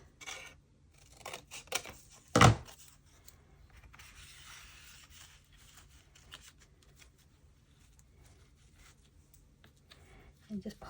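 Scissors cut through paper material for a Christmas junk journal cover, one sharp close snip standing out among soft rustling and handling noises, with a voice speaking quietly in the background.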